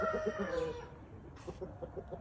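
A rooster and hens calling close by: a drawn-out crowing-like call at first, then a run of short, evenly spaced clucks, with no people talking.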